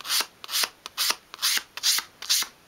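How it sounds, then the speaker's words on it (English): Medium grade sandpaper sweeps back and forth along the wooden edges of a 1/12th scale dolls house kitchen bench, giving about nine close, crisp rasping strokes in a steady rhythm with no talking. "take a piece of medium grade sandpaper and just sweep it along around both edges"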